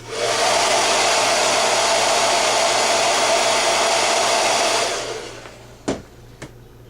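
A hair dryer blows steadily and loud at close range to heat a nail, running for about five seconds before switching off, followed by two soft knocks, with no speech.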